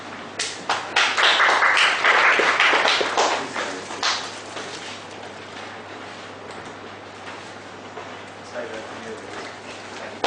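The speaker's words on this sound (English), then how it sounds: "Please give them a clap." An audience at a transfer pricing workshop claps for about four seconds, a burst of dense applause that then thins out under a speaking voice.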